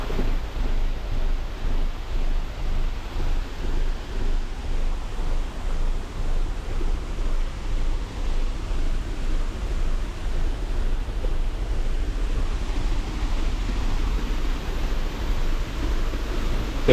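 Water rushing steadily at a dam in Batticaloa, a broad continuous roar with no breaks or voices, close and loud for the whole stretch.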